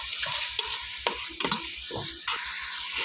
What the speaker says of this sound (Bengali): এখন সুন্দর করে এটাকে আমি ভালোভাবে কষিয়ে নেব।